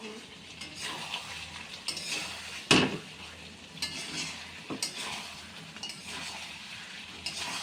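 Mutton pieces being sautéed in a pot, with a steady sizzle, repeated scraping stirs of a spoon against the pot, and one sharp metallic clank partway through, fairly close and with no talking.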